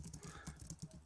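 Rapid keystrokes on a fancy computer keyboard, a steady run of close, crisp clicks in quick irregular rhythm with no voices.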